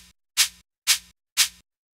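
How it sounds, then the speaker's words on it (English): A plain shaker loop in a drum beat: three evenly spaced, bright hissing shakes, each a short swelling burst, repeating alone in a steady rhythm with a faint low hum beneath. "Now we're gonna take this shaker and make it really come alive."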